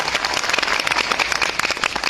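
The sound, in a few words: audience applause for guests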